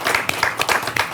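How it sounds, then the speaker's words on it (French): A room full of people applauds at a school Christmas market event, the claps dense and steady, close and fairly loud, in one short burst with no talking. "On l'applaudit."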